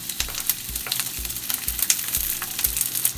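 Chopped onions frying in a hot pan, a steady broadband sizzle with repeated low thumps and scrapes as they are stirred, close and fairly loud.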